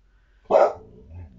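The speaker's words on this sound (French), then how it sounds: "Désolé, c'est le chien." A household dog lets out one loud, close bark, followed by a lower faint growl or murmur, with no talking over it.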